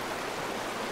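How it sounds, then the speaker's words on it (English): Metolius River flowing at around 7 p.m., a steady, broadband rush of moving water that stays even and close throughout, with no voices. "I'm here on the Metolius River."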